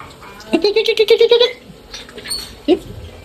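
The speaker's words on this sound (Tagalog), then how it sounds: "Ayan yung aso makulit" A playful pet dog lets out a rapid run of high, whiny yips for about a second, then one short yelp after a pause, heard close over faint background sound.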